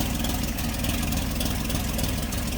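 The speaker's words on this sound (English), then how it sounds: "There we go, engine pop." A 1941 Chevrolet Special Deluxe coupe engine, just out of long-term storage, runs steadily close by with a deep low rumble and rough, uneven popping throughout.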